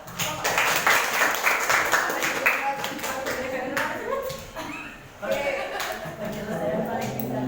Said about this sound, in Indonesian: Tepuk tangan lagi untuk